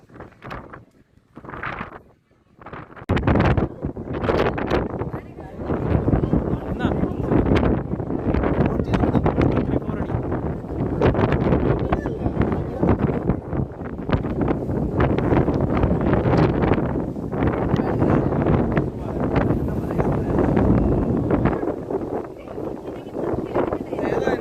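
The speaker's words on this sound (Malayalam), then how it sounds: "കാറ്റ് കാരണം നിൽക്കാൻ പോലും പറ്റത്തില്ല." Strong gusting wind buffets the microphone on Vivekananda Rock at Kanyakumari, a loud continuous roar that swells and dips throughout, with people talking faintly beneath it.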